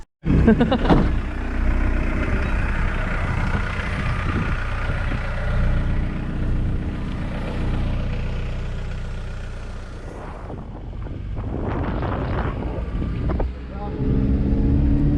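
A vehicle on its way to a scrapyard gives a continuous engine rumble with wind buffeting and road noise, rising and falling as it drives, while people talk over it.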